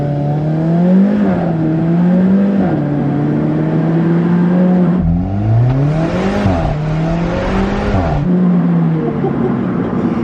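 Alfa Romeo 4C sports car engine revving hard, loud and close, with repeated rising and falling sweeps as the revs climb and drop, a strong run-up in the middle before easing back, with no talking.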